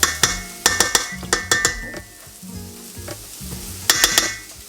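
Butter sizzling in a pan for rice, with clattering stirring strokes and scraping bursts that come and go over a steady frying hiss; close, no voices.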